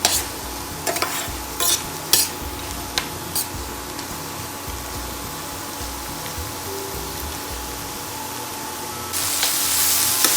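Tomatoes sautéing in a pan for a sweet fenugreek, peas and paneer curry: a continuous close sizzle with a few sharp spatula scrapes and taps early on, growing louder near the end, no talking.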